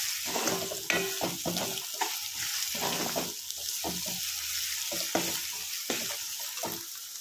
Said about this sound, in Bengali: পেঁয়াজটা একটু ফ্লেমটা বাড়িয়ে দিয়েই আমি ভাজছি